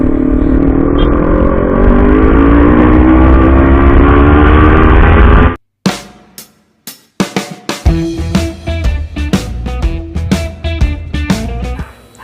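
A Kawasaki Ninja 400 motorcycle fitted with an SC Project exhaust idles loudly and steadily up close, then cuts out and returns as a run of sharp, punchy throttle blips.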